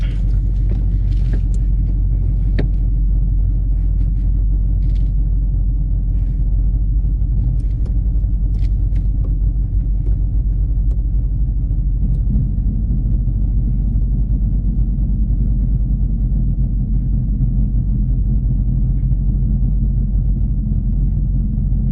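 A Dodge Charger Scat Pack V8 roars through a burnout, a loud sustained deep engine rumble close by with crackling bursts in the first seconds, holding a heavy steady drone throughout.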